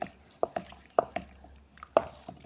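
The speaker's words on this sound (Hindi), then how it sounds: "आप देख रहे हो इसका ये पानी में बस हम धो रहे हैं, पानी मिक्स नहीं हो रहा है" Ghee is washed by hand in water in a bowl to make shatadhauta ghrita: irregular wet squelches and soft slaps, several sharp splashy hits at uneven intervals, close and fairly quiet.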